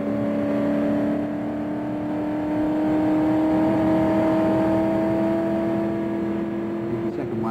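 A 1968 Le Mans race car accelerates hard at high speed on the fast stretch before the Indianapolis corner, its loud engine holding a steady droning whine that rises slowly in pitch, with a voice speaking over it.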